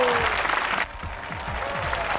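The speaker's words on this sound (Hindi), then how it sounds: "आज नहीं रखेंगे अपने हाथ आप दूर, बजाएंगे तालियां" Studio audience on a Pakistani comedy talk show claps loudly as a guest is welcomed, a dense burst of applause that thins partway through while a voice carries on underneath.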